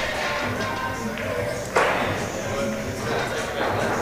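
Cue ball struck during a 4-6 combination shot in a pool match at the 2011 Carolina Open; one sharp click stands out amid commentary and a murmuring room.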